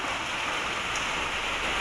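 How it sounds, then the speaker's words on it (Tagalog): Steady rain falls on a surface during a November downpour, a dense, even hiss that runs unbroken with no voices. "Sana tumigil na tong ulan."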